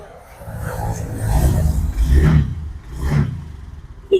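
A motorcycle engine revs during a sound check, rising and falling in a few close throttle blips with mechanical clatter, and a voice is briefly heard nearby.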